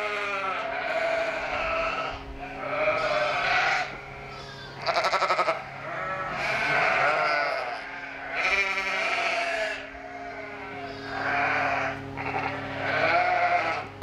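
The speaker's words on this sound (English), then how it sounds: "you can see all the hungry sheep are waiting for their first meal of the day" Hungry sheep bleat repeatedly inside a barn on an Icelandic farm during lambing season, several loud, overlapping calls rising and falling in bursts close by, with no talk over them.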